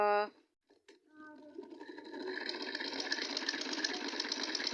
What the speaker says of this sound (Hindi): एक कंधों की सिलाई लग गई है आप लोगों के सामने